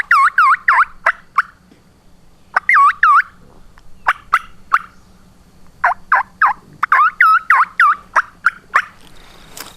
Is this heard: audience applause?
no